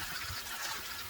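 Strawberries rinsed under a running kitchen tap: a brief, steady hiss and splash of flowing water, close by and alone.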